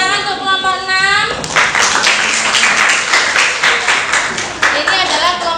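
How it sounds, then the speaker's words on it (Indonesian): A voice speaks briefly, then a classroom breaks into loud, close, sustained clapping for group 6 after their presentation during a teaching-practice lesson, with the clapping carrying on to the end. "Tepuk tangan untuk kelompok 6."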